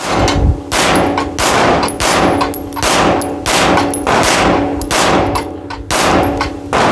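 Handgun shots at shooting practice with a red dot sight outdoors, a loud, sharp series of about seven evenly spaced reports, each with a brief ringing tail, close and alone.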